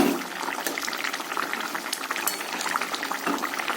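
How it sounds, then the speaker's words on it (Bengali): A pot of fish curry with potatoes boils vigorously, a dense stream of small bubbling pops and liquid gurgles, steady and close, with no voices. "ঝোলটা টকবক করে ফুটছে, মাছের ঝোলটা"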